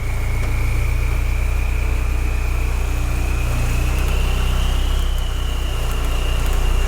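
A TDI diesel engine swapped into a VW mail truck idles steadily, a continuous low rumble with a faint whine riding above it, close and constant throughout.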